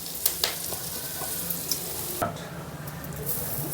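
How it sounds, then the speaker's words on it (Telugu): A hot tempering with curry leaves and turmeric is poured into poha for a poha chivda mixture and stirred. A close, steady sizzle runs throughout, broken by several sharp scraping clicks of the spoon against the pan. "పోపు అంతా అటుకుల్లో వేస్తున్నాను."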